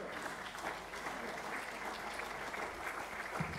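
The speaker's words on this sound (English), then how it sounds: "Could you please give a big round of applause to the IOC President?" A conference audience at an international sport event gives steady, continuous applause for the IOC President, a dense wash of clapping that holds at an even level throughout.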